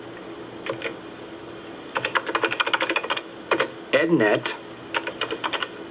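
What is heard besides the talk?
typing on a computer keyboard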